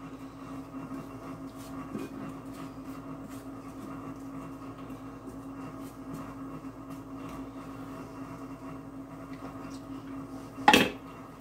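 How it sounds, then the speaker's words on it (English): A spoon spreads apple filling into a Lodge cast iron pie pan with quiet, intermittent scrapes and taps over a low background hum, ending in one sharp metallic clank. "I'm going to get this evenly put in the pan here"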